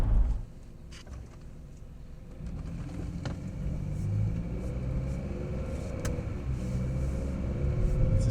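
A car driving along a road before dawn on the way to Dunedin airport, with a steady low engine and tyre rumble throughout, close and continuous, and no talking.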